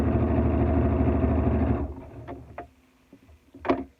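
A sewing machine stitching a fabric mask to the end of its seam hums steadily and fairly loud for about two seconds, then stops, followed by a few small clicks and handling taps.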